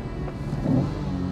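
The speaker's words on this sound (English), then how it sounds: "satisfying naturally aspirated engine to shift with. Downshifts are lovely." A 1999 Acura NSX with a naturally aspirated engine revving briefly during a shift, a close, steady mid-pitched engine drone that swells slightly partway through.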